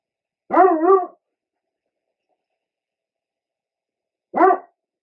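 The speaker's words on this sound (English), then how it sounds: "And you can hear my little demon Great Danes barking." Two deep, loud Great Dane barks separated by silence: a doubled woof at first, then a single bark a few seconds later.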